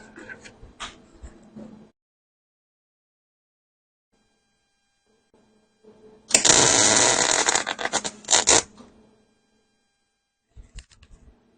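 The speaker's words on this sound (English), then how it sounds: "One last bit of welding here." Welding on the joints of a Model A hot rod frame makes a loud, close crackling buzz that lasts about two and a half seconds. Quiet stretches and faint handling noises come before and after it.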